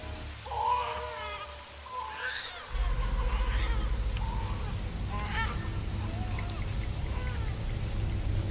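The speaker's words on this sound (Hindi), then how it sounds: "बारिश रुकने का नाम ही नहीं ले रही थी" Heavy rain pours steadily in a dense, loud wash that grows fuller partway through, with honking bird-like calls layered over it.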